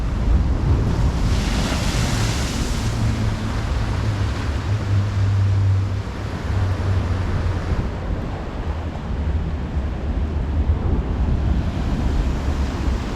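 Sea waves wash against rocks and boulders along a flooded Montego Bay coastline, a continuous loud roar of surf mixed with gusting wind noise on the microphone, with no talking.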